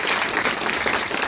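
Brief burst of steady applause from a small audience at a voice dubbing workshop, continuous and fairly close, no talk over it.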